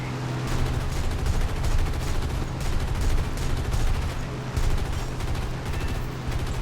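Rapid machine-gun bursts from a rear gunner's position in a French-language combat video game, dense and continuous across the whole stretch, with explosive battle noise layered underneath.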